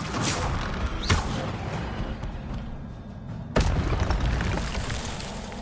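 An Incendio fire spell cast in Hogwarts Legacy, heard as two sharp, loud bursts a few seconds apart over a constant background rumble, with no talking.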